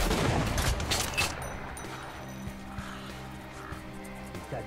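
Sniper gunfire in the shooter game Metro: Last Light Redux, a burst of loud sharp shots at the start followed by a quieter rumbling game ambience with a few distant thuds.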